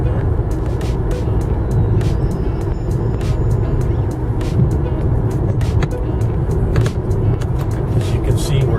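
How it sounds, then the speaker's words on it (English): A car drives up Orange Grove along the Tournament of Roses parade route, a steady close engine and road rumble running throughout, with intermittent voices under it. "we're driving up Orange Grove much faster than the floats and the parade people are"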